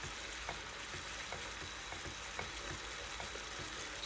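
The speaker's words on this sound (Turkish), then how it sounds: "Bunu koyulaşıncaya kadar karıştırıyoruz." Kuymak (mıhlama) mixture stirred in a pan as it thickens, a steady soft bubbling sizzle with faint scraping strokes of the spoon, close and continuous.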